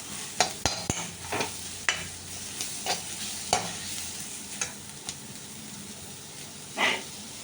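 Chopped onions and curry leaves sautéing in a pan for a fish moilee, with a soft steady sizzle broken by repeated sharp scrapes and clicks of stirring. A brief hiss swells near the end.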